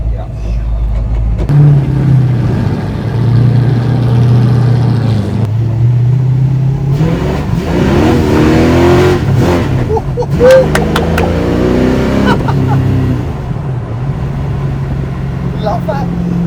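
A classic car worth around £8 million drives around the Goodwood circuit during the Revival, its engine rumbling low and steady, then revving and accelerating in the middle, with voices talking inside the car over the engine noise.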